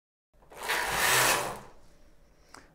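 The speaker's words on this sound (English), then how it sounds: "I'm going to knit this part and skip this part" A Knittax knitting machine carriage knitting sock stitches makes a single smooth whirring pass of about a second that swells and fades, followed by a faint click, close and alone.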